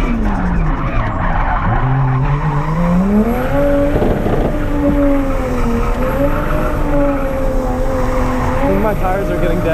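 A Toyota JZX100 Cresta drifts at Ebisu circuit, its tires squealing in long wavering howls over a loud engine, continuous and close throughout.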